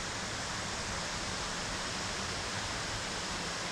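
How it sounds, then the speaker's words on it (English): Water runs somewhere near a dismantled railway line, a steady, broad, hissing rush with no breaks or voices, filling the whole scene at an even level. "There's definitely a lot of water running I can hear."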